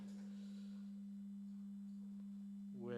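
A synthesized sine wave tone hums steadily and quietly at one low pitch, unchanging throughout, with a brief rising sweep of harmonics at the very end.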